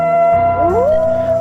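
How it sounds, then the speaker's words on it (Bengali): A single jackal howl heard in the middle of the day, a steady tone that bends downward and slides back up before holding, carried clearly over a quiet, still background. "শিয়ালের ডাক শুনতে পেল"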